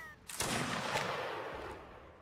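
A rank of troops in an online multiplayer game fires a single volley, a loud crashing burst of musket shots followed by a rolling, fading echo over about two seconds.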